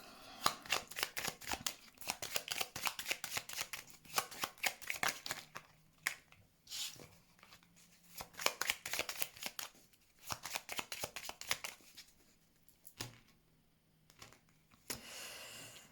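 Tarot cards shuffled for a reading, a long run of quick riffling flutters and soft slaps in irregular bursts, close and clear with brief pauses between shuffles.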